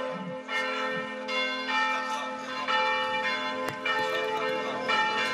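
Church bells peal in Romans-sur-Isère during a pétanque final, a steady, continuous ringing of overlapping tones that carries throughout at moderate volume.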